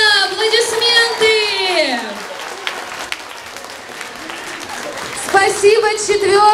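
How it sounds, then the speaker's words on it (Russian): Applause at a primary school graduation celebration, crowd clapping running beneath sustained voices and singing-like tones, with a voice fading out midway and returning near the end. "Аплодисменты!"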